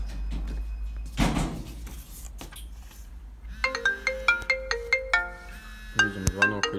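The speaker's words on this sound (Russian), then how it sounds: "Видим, звонок идет, все работает." A telephone call placed after dialing, its ringback and electronic tone sequence sounding over low background hum, preceded by a clunk and some rustling; no one speaks.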